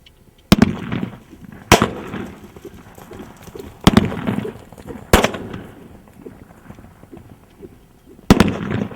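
Several sharp, loud cracks ring out at irregular intervals, about five in all, each a sudden bang with a short echo over a rustling outdoor background.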